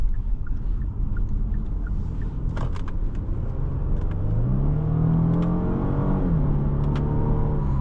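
A 2017 Genesis G80 with the 3.8 engine revs while driving, its close, steady rumble climbing in pitch as it accelerates, settling briefly, then rising again over road noise.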